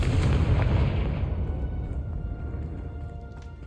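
A Confringo blasting spell from Hogwarts Legacy erupts in a loud, deep explosion with a booming rumble that slowly decays over several seconds.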